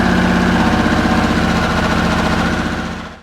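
A Harley-Davidson Sportster S motorcycle engine runs loud and close at a lumpy, throbbing idle right after starting, then cuts off abruptly at the end.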